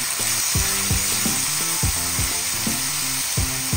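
Chicken liver and tomato sauté in fish sauce in a hot pan, a steady loud sizzle broken by rhythmic scraping strokes of a utensil stirring roughly every half second.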